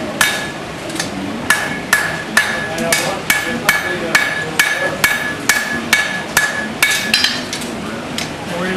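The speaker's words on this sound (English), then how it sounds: "And I'm going to start forging this to a nice shape" Close, crisp hammer blows ring out as hot steel is slowly forged into a knife shape on an anvil, a run of about sixteen even metallic strikes at a brisk, regular pace with no speech.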